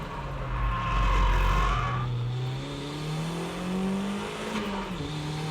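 A drift car's engine drones loudly and steadily as it brakes into a corner, its pitch sliding and dipping with faint tire scrub underneath, heard alone without talk.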